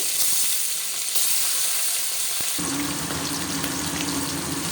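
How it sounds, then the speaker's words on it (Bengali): Bata fish dropped into hot mustard oil: a soft sizzle swells into louder, denser crackling frying partway through, close and steady, without any speech. "তেলটা গরম হয়ে গেছে আমি একটা একটা করে মাছ ভেজে নেব"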